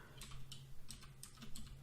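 Rapid, light clicks of fingers typing on a computer keyboard while writing code, quiet and close, in short irregular bursts with no voices.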